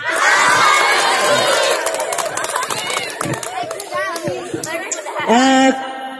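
An event audience cheers and shouts excitedly, with loud crowd noise, children's voices and scattered whoops, while a host talks over the commotion; the crowd noise tapers before a final burst of shouting.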